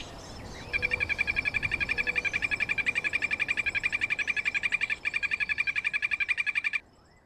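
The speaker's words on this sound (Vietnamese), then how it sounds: "Đây là loài ếch phi tiêu độc nguy hiểm nhất của thiên nhiên." A poison dart frog in the Amazon rainforest gives a long, steady trill of rapid, evenly spaced pulses that runs for about six seconds, loud and close, with one brief break partway through.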